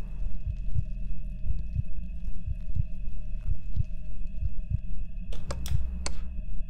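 A steady, muffled heartbeat thumps in a FNAF-inspired insect animatronic horror video game, about two beats per second over a droning hum, with a few brief sharp clicks near the end.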